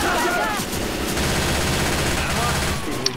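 Sustained automatic gunfire in Left 4 Dead 2 during a campaign finale, a dense rapid rattle that stays close and loud for the whole stretch, with a voice faintly under it.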